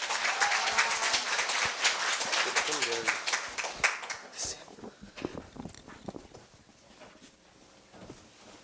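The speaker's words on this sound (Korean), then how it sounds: "조주영 학생을 다들 큰 박수로 맞이해 주세요" Audience applause at a Korea University middle school speaking festival greets a student speaker, a dense burst of clapping that thins out and fades within a few seconds.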